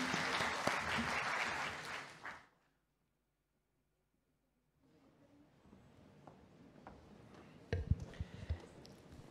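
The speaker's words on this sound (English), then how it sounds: "Kindly a big round of applause for him." Audience applause for a speaker at a youth peace summit, a dense burst of clapping for about two seconds that cuts off abruptly, followed by quiet room noise and scattered sounds.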